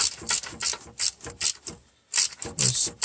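A hand ratchet snugs down thermostat housing bolts on a car engine with a coolant temperature fault, clicking in repeated short bursts of strokes up close, with a brief pause midway and no talking.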